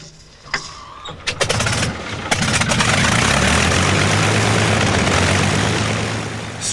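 A 1930s fighter plane's piston engine coughs and sputters through a few start pops, then catches into a loud, steady propeller drone that holds on close.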